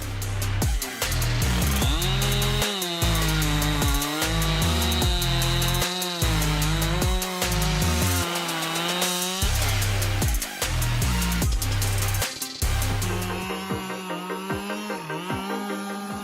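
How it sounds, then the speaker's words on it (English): A Husqvarna 585 chainsaw with a hexa chain cuts through large logs, its engine snarling loudly and rising and falling in pitch as it bites in and eases off, then dropping to idle near the end. "The Husqvarna 585 is equipped with a Japanese hexa chain with 105 chem cutting capacity that turns handling large logs into an art form."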